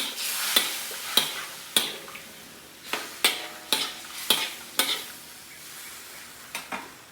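Chicken chopsuey with carrots is stirred in a boiling pot, giving about a dozen sharp utensil scrapes and knocks in an uneven rhythm, close and clear over a soft bubbling background.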